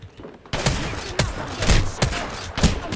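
Rapid bursts of gunfire in Apex Legends, including shotgun blasts, crack out in repeated volleys about every half second, loud and close, with a brief quieter lead-in before the shooting starts.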